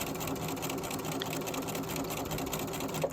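A sewing machine runs steadily while stitching a quarter-inch seam along the edge of fabric, giving a close, continuous whirring hum with no pause.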